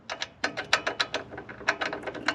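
A hand ratchet wrench clicks rapidly as it turns a nut on a third-generation Chevrolet Equinox during a coilover install, sounding as close, crisp bursts of ratcheting strokes with brief pauses between them.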